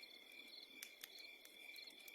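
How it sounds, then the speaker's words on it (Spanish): Crickets chirp outside at night, a steady high trill with faint pulsing beats, quiet and distant in an otherwise still setting. "podíamos escuchar los grillos cantando afuera."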